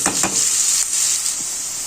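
Thinly sliced onions frying in hot oil and being stirred, a bright hissing sizzle close up with a few spatula scrapes near the start.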